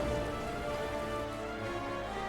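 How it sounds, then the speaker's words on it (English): Steady, even rainfall patters in the video game Final Fantasy XIV, a soft continuous hiss of drops on surfaces with no talking. "Good thing rain won't stop us."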